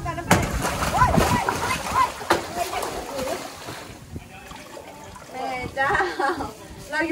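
Dolphins splashing water in a pool, repeated splashes and sloshing bursts, with people talking and exclaiming close by throughout.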